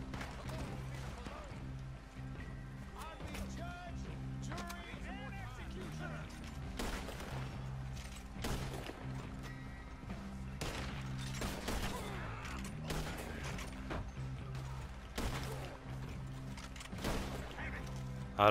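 A gunfight in Red Dead Online, with repeated sharp gunshots cracking in irregular bursts over a steady low game hum, quiet and somewhat distant throughout.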